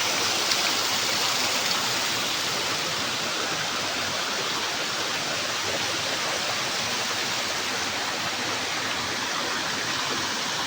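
Water pouring steadily into a temple tank at a temple, a loud, dense, continuous rushing splash heard up close with no pauses and no voices.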